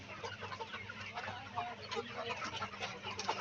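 Golden super hybrid chickens on a farm, a dense flock clucking and chattering continuously at close range, agitated and busy, with no talking over it.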